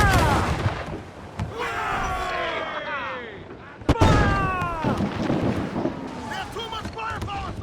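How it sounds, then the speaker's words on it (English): Ship cannons fire in a naval battle in Assassin's Creed IV Black Flag, with two sharp loud booms under continuous shouting voices and wind and sea noise. "Cannon ready! Fire!"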